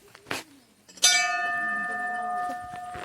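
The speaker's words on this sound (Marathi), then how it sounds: "घंटा वाजू का" A single loud strike of a bell at an ancient Hanuman temple in the Satpura hills, ringing out clearly and decaying slowly after a few soft knocks.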